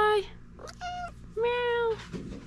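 Pet cats meow in an apartment during a move-in day, giving a few close, clear meows with short pauses between them.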